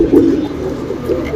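Yedanur sabza male pigeon cooing close by, a steady low rolling coo that pulses on and off through the clip with no other sound around it.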